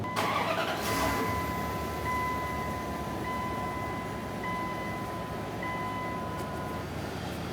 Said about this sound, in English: we need to go ahead and start up the vehicle